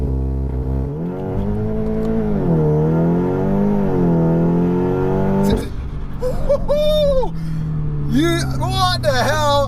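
An Audi S3 makes an all-wheel-drive launch on a damp surface: its engine revs hard in rising and falling surges, then fades under excited talk from people nearby.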